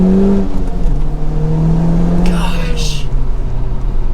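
A Honda Civic Type-R engine pulls hard under acceleration from inside the cabin, a loud rising drone with gear-change dips, heard beneath a driver's excited talk.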